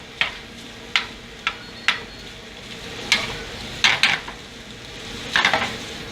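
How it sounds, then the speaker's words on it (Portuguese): A spoon stirs pasta with brie as it sautés in a pan: a steady soft sizzle runs underneath while sharp scraping clicks of the spoon land irregularly, close and clear, with no talking. "Salteio ou então mexo com a colher"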